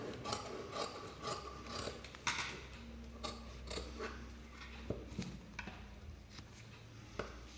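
Scissors cutting straight through fabric for the back neck of a blouse, a half-inch from the edge; quiet, close snipping and rubbing blade sounds in a steady run of short strokes, with no talking.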